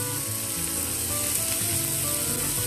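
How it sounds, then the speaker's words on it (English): Sweet corn and spring onions sautéing in a pan, a steady close sizzle and crackle with faint stirring, continuous and fairly even throughout. "This is sweet corn. Saute this well."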